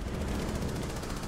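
Rapid automatic gunfire rattles in a first-person shooter game, a dense, loud burst of shots lasting about a second with no talking.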